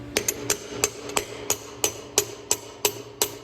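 Hammer blows drive a piece out of a welded scrambler chassis made of steel tube: about ten sharp metallic strikes in a steady, slightly uneven rhythm, close and loud, with no talk.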